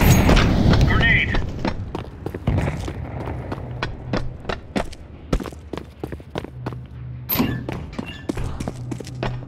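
Grenade blasts in Counter-Strike 2 competitive play: a heavy broadband boom at the start and another sharp burst later, among scattered thuds, footsteps and clicks of gunplay, with a low steady hum underneath.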